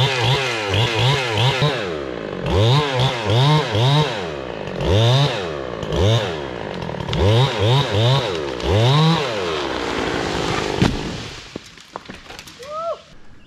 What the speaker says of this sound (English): we're gonna cut this tall hickory right on the left side of this tree.